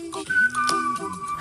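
A human whistles a short, steady tune, a pop song recast in a minor key, clear and close with a thin, eerie tone.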